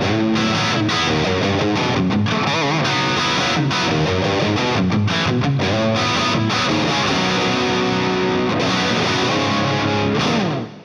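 Electric guitar licks play with the Rocktron Reaction distortion pedal switched off, a loud, continuous stream of fast, dense phrases with a gritty, saturated tone that cuts off sharply at the end.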